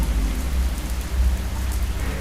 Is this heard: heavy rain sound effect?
yes